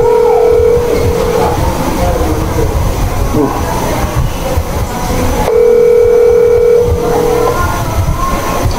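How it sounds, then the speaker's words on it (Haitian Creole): Telephone ringing tone sounds as a steady electronic tone in two long bursts separated by a pause, fairly loud against a dense, noisy background. "Peut-être que le téléphone a sonné comme ça."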